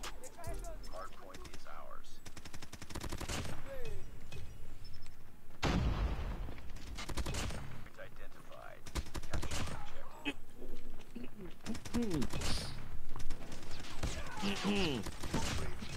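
SMG fire from COD Mobile crackles in repeated short bursts amid game effects, with someone talking over much of it.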